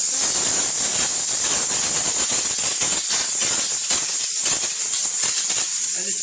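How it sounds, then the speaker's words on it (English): A steam cleaning machine gives out a loud, continuous high-volume, high-pressure hiss as it washes the salty back of a car, with the spray fluttering slightly but never stopping. "We always have a high volume, high pressure steam waiting to go."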